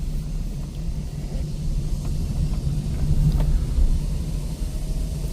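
A car drives along a road through dense jungle with a continuous low rumble of engine and tyres, steady and fairly close, with no voices.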